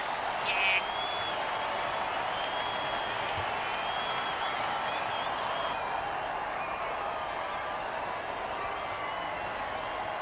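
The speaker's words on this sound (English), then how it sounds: "Crowd's loving it." An American football crowd cheers and claps after a defensive offside penalty, a dense sustained roar filling the stadium, steady and loud throughout.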